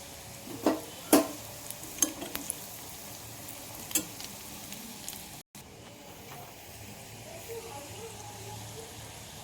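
Food browning in a pan of hot oil gives a steady soft sizzle and frying hiss, with a few clinks and taps of a utensil early on and a brief cut midway.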